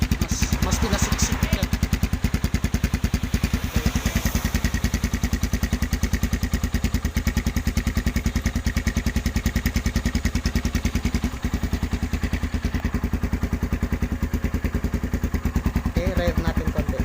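Kawasaki Z200X motorcycle idling through a modified perforated exhaust pipe with repacked fiber, a steady fast thumping putter held close and even throughout, with faint talk in the background.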